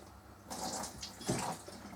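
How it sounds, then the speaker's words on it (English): A spoon is rinsed under a running kitchen tap, a soft steady splash of water that swells and shifts as the spoon moves through the stream, close and fairly quiet. "So let's rinse that spoon."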